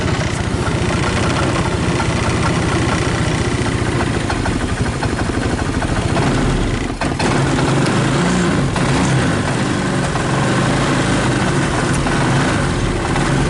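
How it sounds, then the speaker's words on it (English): A UTV engine idles steadily and loudly throughout, with a dense mid-low rumble and vibration that dips briefly once midway, no voices over it. "it's idling, and I'll take that"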